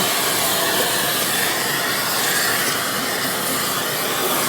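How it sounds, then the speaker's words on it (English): Vacuum cleaner sucking light, fluffy fly ash out of a coal-burning stove, a steady loud broadband whoosh that holds evenly throughout with no talk. "This fly ash is so light and fluffy that the vacuum really has very little difficulty in sucking it right up."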